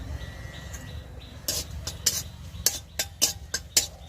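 Dried red chillies stirred in a pan for a bhapa pitha spice mix, a series of sharp metallic clinks and scrapes of a spoon against the pan, irregular at first then roughly evenly spaced, over a low background hum.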